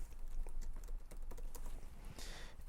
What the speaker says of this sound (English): let's type node server.